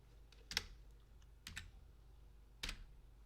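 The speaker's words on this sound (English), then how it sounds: "I will type the function get header without s." Code being typed on a computer keyboard: a few scattered clusters of light key clicks, close but very quiet, over a faint low hum, with no talking.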